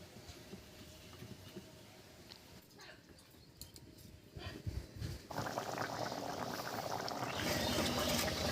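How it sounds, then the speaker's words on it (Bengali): Hilsa fish curry, a thin Bengali jhol with potatoes, boiling in a pot over a high flame. It starts as a soft bubbling simmer and grows into a louder, denser, steady hiss of rolling bubbles. "বলক উঠে গেছে"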